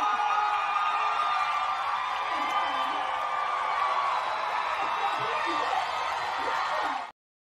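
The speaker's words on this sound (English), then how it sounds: "Just listen to the crowd days after she was censured." A large crowd at a political event cheers and whoops steadily for a speaker, a sustained, somewhat distant roar with scattered shouts that runs unbroken for several seconds before cutting off abruptly.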